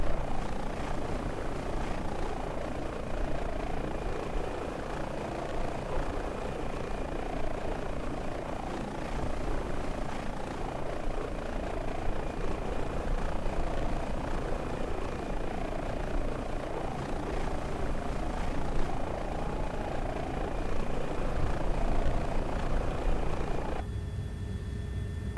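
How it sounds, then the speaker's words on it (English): Airbus H145 helicopter by HPG in Microsoft Flight Simulator 2020, a steady loud rotor and turbine drone that holds throughout with no talk, changing tone near the end. "Absolutely lovely helicopter by HPG."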